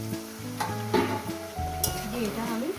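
Eggplant and cauliflower fry in a pan for a Bengali chorchori, giving a bright, crackling sizzle with scraping stirs, while a faint voice or tonal sound murmurs underneath.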